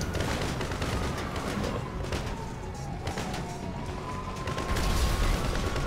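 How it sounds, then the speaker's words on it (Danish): Rapid bursts of video game gunfire, shooting at a car's tyres, crackle over a noisy game soundtrack, with a dense, continuous rattle of shots throughout. "Jeg skal lige have skudt min hjul på den her side her."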